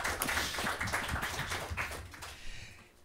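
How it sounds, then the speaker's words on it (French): Audience at a French business round-table discussion claps in a short, brisk burst of distinct hand claps that thins out and fades within about three seconds. "Bon, on peut l'applaudir, non?"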